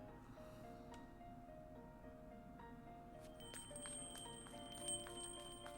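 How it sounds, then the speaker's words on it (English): A store entrance chime from the visual novel Nekopara Vol 2 rings clearly above a steady musical bed, its bright high tones entering about midway and sounding in several spaced strikes. "There was a short silence, followed by the ringing of the chime at the store's entrance."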